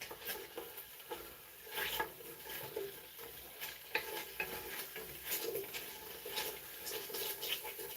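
Onions frying in oil in a pot for Irish stew, with a utensil stirring and scraping the bottom, giving a steady soft sizzle broken by repeated scraping strokes, close and moderately loud.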